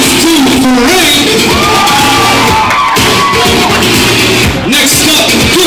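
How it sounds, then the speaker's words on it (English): Wedding crowd cheering and whooping loudly, with shouts and scattered applause filling the room close by, sustained throughout without pause. "Let's give a warm round of applause to Frank."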